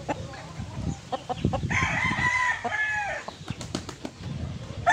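A three-year-old Larry Romero sweater gamefowl rooster crows loudly and close up in one drawn-out call, with clucks, scratching and wing flaps around it.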